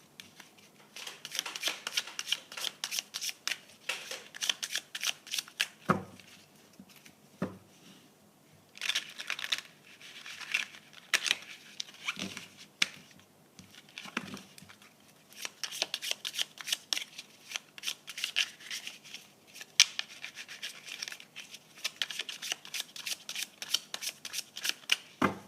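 A deck of tarot cards being shuffled and cut by hand gives rapid riffling bursts with brief pauses and a few sharp slaps, close and steady for the whole stretch, with no talking.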